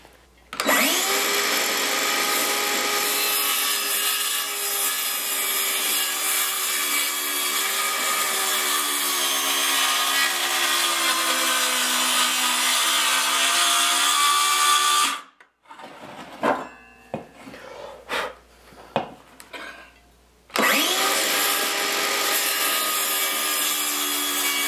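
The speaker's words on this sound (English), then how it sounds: "We want to set our depth on our skill saw again, this time so it'll go through all 4 sheets." A circular skill saw screams continuously through a stack of four wood sheets for about fifteen seconds, then rattles and clunks briefly before cutting again; loud and close, with no talking.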